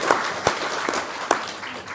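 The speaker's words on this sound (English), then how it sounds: "give them both of them a round of applause" Sparse audience applause at a social policy event, a steady wash of clapping from a small crowd with a few sharper claps standing out, fairly close and heard without any talking over it.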